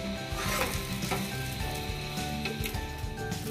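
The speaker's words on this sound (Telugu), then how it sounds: "నెయ్యిలో వేసి వేయించుతున్నాను." Vermicelli roasting in hot ghee for sheer kurma gives a steady, close sizzle with soft stirring scrapes throughout, and nobody talks over it.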